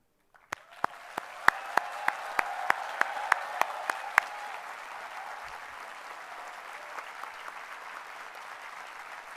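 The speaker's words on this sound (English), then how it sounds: "let's see how loud you can be in applauding your parents." Graduates at a convocation applaud their parents. A run of sharp, evenly spaced loud claps leads into a broad, sustained wave of crowd applause that gradually thins out.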